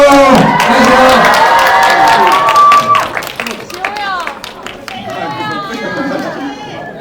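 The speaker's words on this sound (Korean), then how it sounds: "큰 박수 부탁드리겠습니다." An audience at a Korean film greeting event applauds and cheers the director and actors, loud crowd clapping and chatter filling the space before settling into scattered voices and claps.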